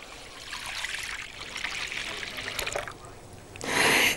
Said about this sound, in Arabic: هنحط اللبن